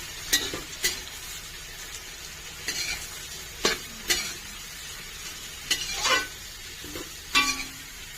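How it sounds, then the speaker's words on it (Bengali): Onions frying in a pan for mutton curry, a steady low sizzle broken by repeated scraping stirs of a spatula against the pan, close and moderately loud with no talking. "এবার পেঁয়াজ ভেজে নেবো ভালো করে"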